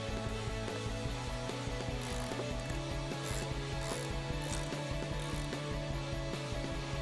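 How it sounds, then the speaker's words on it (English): A ratchet fitted with an 8mm socket tightens a bolt on a Jeep Wrangler JK, making rapid, steady pawl clicking close by, quiet and continuous throughout. "we can just tighten that down with our 8mm socket"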